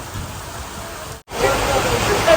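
Heavy rain pours down in a steady, dense hiss that fills the scene, briefly cut off for a moment before returning even louder and closer.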